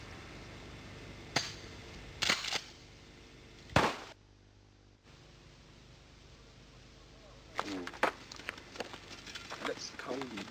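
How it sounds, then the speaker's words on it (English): Pump-action shotgun blasts fired at an ArmorShield panel from 9 meters, a few sharp loud reports spaced apart, followed by quieter clattering and handling sounds with people talking. "So we're going to use a pump gun now. Also at the same close range,"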